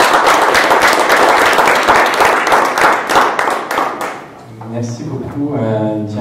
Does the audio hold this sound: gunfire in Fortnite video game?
no